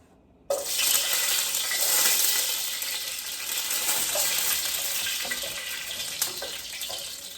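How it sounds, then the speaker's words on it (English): Garlic dropped into hot oil for Jamaican-style steamed fish bursts into a loud, steady sizzle that starts abruptly and holds close and bright, with a few small pops. "I just like to fry out the garlic in the oil for the flavor."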